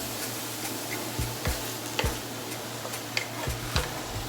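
Shrimp and onions sizzle steadily in a hot pan, a close continuous frying hiss broken by several sharp clicks and stirring knocks, with no talking.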